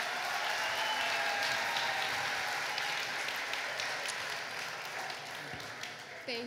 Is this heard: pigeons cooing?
no